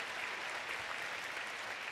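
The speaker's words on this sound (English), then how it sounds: "let's give them a round of applause" An audience at a social work commencement ceremony claps steadily, a dense, even wash of applause that holds at the same level from start to finish with no voices over it.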